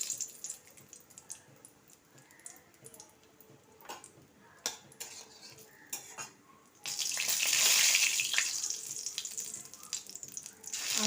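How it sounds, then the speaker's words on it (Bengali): Whole garam masala spices (green cardamom, cloves, cinnamon) dropped into hot oil left from frying lentil dhoka, giving a loud rising sizzle in the second half after quieter kitchen clatter and small taps. "এবার ধোঁকা ভাজা তেলেতে আমি দিচ্ছি গরম মশলা, ছোটো এলাচ, লবঙ্গ, দারচিনি।"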